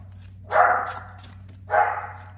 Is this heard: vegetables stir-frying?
no